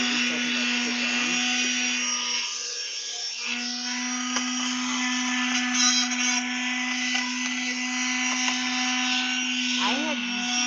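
A power sander working on items, a steady high whine with a strong constant tone that dips briefly partway through, running continuously while a person talks over it.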